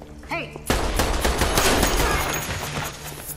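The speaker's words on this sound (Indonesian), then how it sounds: "Dengan santainya Lucy menembak mati beberapa orang yang sedang bermain slot online" Gunfire in the film Lucy as she shoots people playing slot machines, a sudden dense volley of loud shots that keeps going after a brief lead-in with voices.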